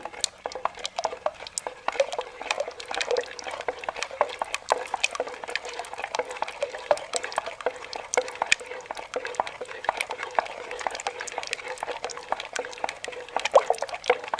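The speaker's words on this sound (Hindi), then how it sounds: "अब इसको हम 20 से 25 मिनट इसको इसी तरीके से हम मदानी चलाएंगे बलाई में ताकि ये मक्खन अच्छे तरीके से बन जाए।" Wooden churning stick (madani) turning thick cream in a pot to make homemade desi butter, giving a steady wet sloshing and squishing texture with soft irregular patters, close and continuous throughout, no talking.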